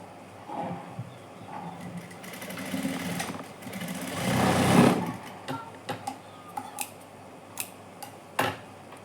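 A sewing machine stitches along the side of a knot rope, running in a short steady burst with scattered clicks and ticks around it.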